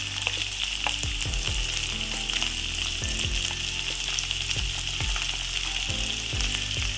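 Mushroom roast ingredients sautéing in a pan, a steady loud sizzle of frying oil with periodic stirring scrapes and knocks against the pan, close and continuous with no voices.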